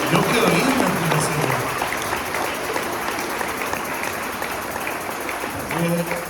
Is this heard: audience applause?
yes